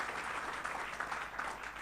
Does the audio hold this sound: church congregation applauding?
yes